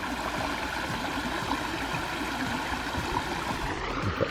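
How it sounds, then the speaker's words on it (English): Water from a newly built medium pondless waterfall in Burnsville, Minnesota runs over rock in a steady, moderate trickle and splash, continuous and close with no talk over it. "now that the waterfall has come to life"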